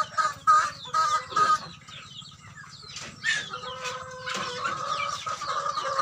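Chickens cluck and squawk in uneven bursts on a small farm, some calls near and loud, others softer, with a brief flutter of wings and a low steady hum beneath.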